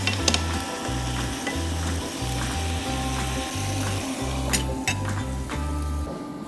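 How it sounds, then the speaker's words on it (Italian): Boghe fish sizzles and fries in a pan, a steady close crackle while a utensil taps and scrapes against the pan in a regular rhythm. "ok, lasciamo cuocere un altro 2 minuti."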